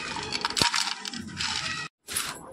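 Cooled roasted dry dates (kharik) give off crisp, brittle crackles and small clicks as they are stirred or handled, close and fairly quiet, with a brief gap of silence near the end.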